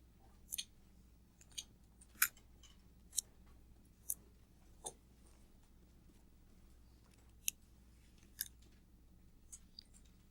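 Scissors snipping out a paper graph, a string of short, crisp cuts spaced irregularly over quiet room tone, with no talking.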